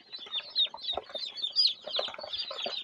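A female chick peeps rapidly during sexing, giving high, thin chirps in quick continuous succession, close and moderately loud with no talking.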